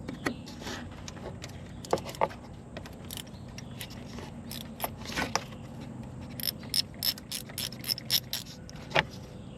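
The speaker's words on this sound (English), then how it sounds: "we're going to take these 2 bolts right here off" Socket wrench working two bolts loose on a 2009 BMW 328i with an N52 engine, heard as uneven ratcheting clicks and metallic taps over a low background hum, moderately close, with no speech.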